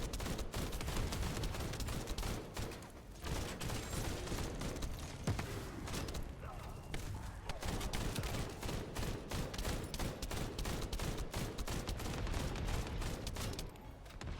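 Sustained automatic tactical rifle fire in the shooter game The First Descendant during a solo hard-mode run: rapid, continuous shots packed tightly together at a loud, even level, broken by only brief pauses.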